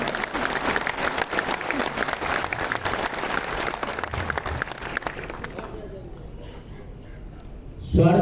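An audience at a Hindi comedy poetry gathering claps loudly and steadily for several seconds, then the applause fades to near quiet before a voice starts up at the end.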